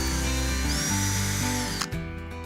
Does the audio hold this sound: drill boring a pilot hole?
yes